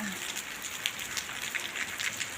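Steady rain falling in a rural setting, an even close hiss with scattered soft patters throughout.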